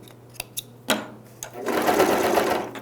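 A sewing machine stitches a jeans hem, with a few short mechanical clicks and taps first, then a sustained close whirring run of stitching.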